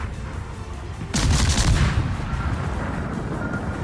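Naval guns fire in World of Warships with a sudden loud salvo boom that rolls into a lingering rumble, following quieter engine and water ambience of the ship, with no talk.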